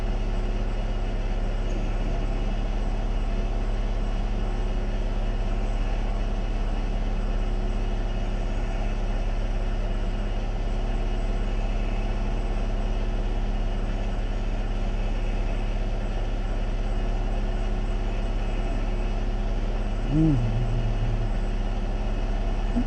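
An overheating Acura car idles roughly, a steady low engine drone that runs continuously and close-by without speech, with only a small blip of a higher tone near the end.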